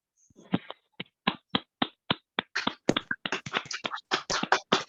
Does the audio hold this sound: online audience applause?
yes